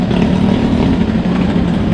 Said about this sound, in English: Also seems like hiring a quad bike or one of these off-road vehicles